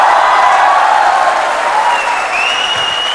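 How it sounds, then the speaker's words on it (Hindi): A studio audience at a Mumbai TV special show claps in a broad, sustained round of applause with a few faint cheers mixed in, loud and continuous without talk. "अभी इनकी बात के लिए ताली बजानी चाहिए"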